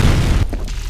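A loud, deep rocket explosion from the shooter game F.E.A.R. booms heavily and close, with a thick low rumble that cuts off abruptly into a short fading tail.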